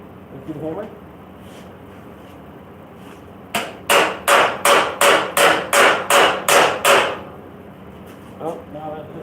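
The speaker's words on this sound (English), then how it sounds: "Let's do the hammer." A close, loud run of about ten evenly spaced hammer strikes hits metal panel work on a 1969 El Camino, with brief speech before and after.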